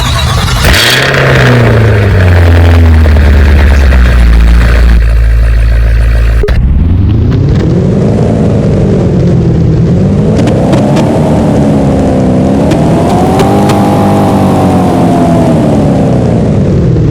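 An SUV engine in the video game Driving Empire cranks and fires up loudly, then idles and revs in rising and falling surges, a heavy mechanical drone close up.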